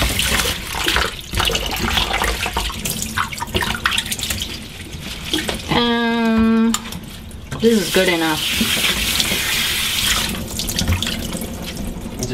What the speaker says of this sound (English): And use the water to rinse your vegetables.